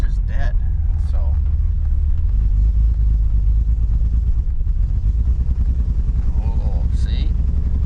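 Engine sputters and rumbles unevenly at low RPM, loud and close, with someone talking over it in short bursts.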